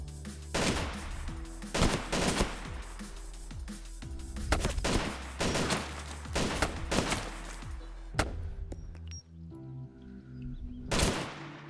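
Fully automatic weapon fire in the DayZ survival game, sharp repeated bursts of gunshots in quick clusters through most of the stretch, loud and close, with a brief lull before a final burst.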